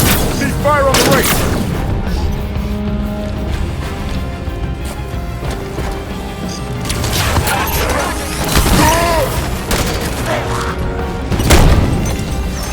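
Heavy gunfire and booming blasts from a Halo 5: Guardians battle ring out in repeated loud volleys with sharp impacts and mechanical clatter, rising and falling across a continuous chaotic firefight, with occasional voices mixed in.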